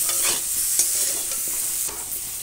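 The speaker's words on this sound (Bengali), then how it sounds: "দিয়ে বেশ ভালো করে নাড়াচাড়া করে এঁচোড়টাকে ভেজে নেব।" Jackfruit pieces fry in a pan with turmeric and chili powder as a spoon stirs them, giving a steady close sizzle with repeated scraping strokes.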